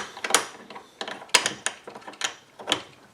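A wrench tightens a small nut on the work ring of a wax trimmer adaptor, giving a series of crisp metallic ratcheting clicks in short, uneven bursts, close and fairly quiet.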